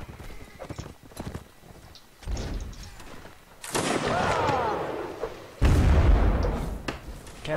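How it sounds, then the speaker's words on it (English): Cannon fire in the medieval battle game Mount and Blade: three heavy, booming blasts land a second or two apart over a bed of galloping hooves and battlefield noise, each one loud and close. "Cannons are pretty cool to use,"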